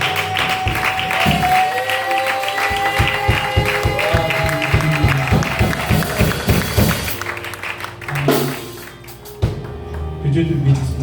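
A church congregation claps and cheers at a French-language worship service, steady rhythmic clapping close and loud, thinning out toward the end.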